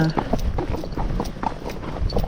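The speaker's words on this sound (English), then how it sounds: "So here comes another horse" Hooves of an approaching horse clip-clop in a steady, uneven rhythm on a trail ride at Mt. Madonna, mixed with rider talk and ambient noise throughout.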